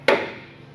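A single sharp metallic strike of a hammer on a screwdriver used as a punch rings out once, then fades quickly into quiet.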